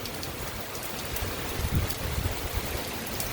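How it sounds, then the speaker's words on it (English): Steady rain hiss during a severe thunderstorm at Virginia Beach, Virginia, with gusty wind as a gust front pushes through; broadband and constant, with a few low rumbling swells midway and no talking. "The rain and the winds."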